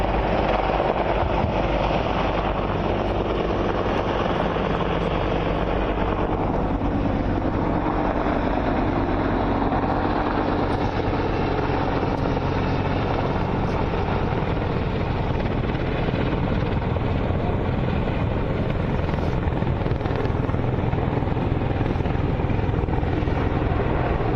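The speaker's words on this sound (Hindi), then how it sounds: "ये जो हेलीकॉप्टर्स की गड़गड़ाहट हम इतनी दूर बैठकर यहाँ पर सुन पा रहे हैं" Military helicopters patrolling over Ladakh produce a steady, loud, continuous rotor rumble and engine roar that fills the whole stretch without a break and with no talk.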